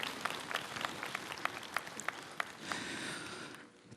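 Buddhist monks at a national rally in Korea give a round of applause: scattered, distinct claps that thicken into a brief roll before fading, heard from across a large gathering.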